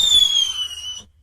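Synthetic fireworks effect generated by a Python program: a short bright whistling burst with high tones sliding slightly downward, lasting about a second before cutting off abruptly.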